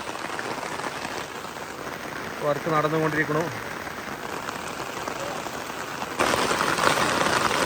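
Steady heavy monsoon rain hisses across a house construction site in Kerala, growing louder toward the end, while someone speaks briefly over the downpour.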